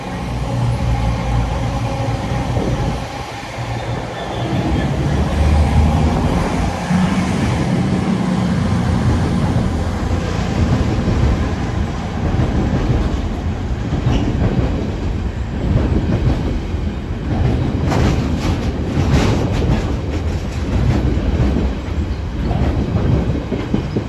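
A freight train rumbles and clatters past at Chesterfield station as a Voyager passenger train overtakes it, a loud, continuous rail roar with rhythmic wheel clicks close by.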